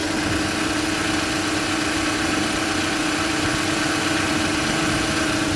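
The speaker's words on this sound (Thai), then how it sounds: "เดี๋ยวฟังเสียงเครื่องยนต์กันครับ" A 2007 Toyota Camry 2.0G engine idles close by with a steady, even rumbling hum and no other sounds.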